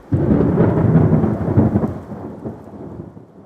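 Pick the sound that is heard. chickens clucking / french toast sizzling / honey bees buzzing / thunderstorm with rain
thunderstorm with rain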